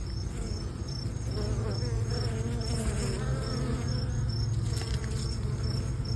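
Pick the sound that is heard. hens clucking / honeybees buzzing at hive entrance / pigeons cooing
honeybees buzzing at hive entrance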